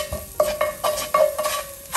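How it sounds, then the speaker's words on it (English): Minced garlic sautéing over low-medium heat in a Staub braiser, with a steady soft sizzle broken by several sharp scraping stirs of a utensil against the pan, close and alone. "we're gonna saute our garlic here"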